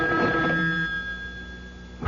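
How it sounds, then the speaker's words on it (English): A telephone bell rings in an old radio mystery drama, one sustained electric ring near and loud, ending abruptly. "The phone. At this hour?"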